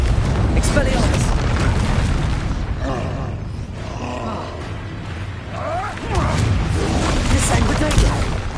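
Booming spell blasts in a Harry Potter video game, with a Confringo explosion among dense game combat: continuous loud rumbling bursts and crackling effects, two stronger surges near the start and again after a brief dip, with voices shouting over the din.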